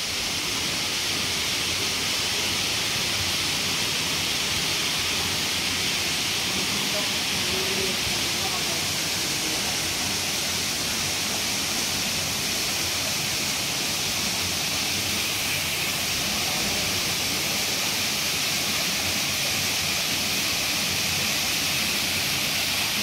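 A low-flow waterfall at Masheenuloddi near Hyderabad, a continuous broadband rush of falling water heard close and loud, steady for the whole stretch with no breaks.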